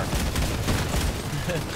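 Weapons fire in the vehicle combat video game Crossout, a dense rumble of booming shots and gunfire blended into noisy battle audio, with a voice talking over it.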